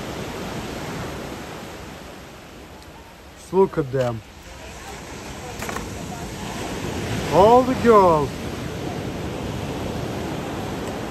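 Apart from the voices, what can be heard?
ocean waves in San Francisco, California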